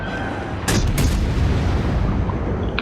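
Battleship cannons firing in World of Warships: a loud booming salvo followed by a second blast, then a rumbling roll that fades slowly, with no speech.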